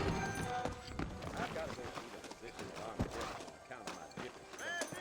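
Horse hooves clip-clopping on a dirt trail in Red Dead Redemption's New Austin, a steady trotting rhythm mixed with game ambience and a short whinny.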